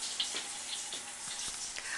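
Water from a shower runs continuously, a bright hissing spray with small splashes and drips, close and steady with no talk.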